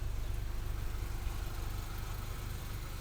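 A 2005 Mitsubishi Lancer Ralliart runs at a steady idle through an exhaust fitted with a tip on a small 1.5 inch pipe, a continuous low pulsing drone heard up close with a hissy wash on top.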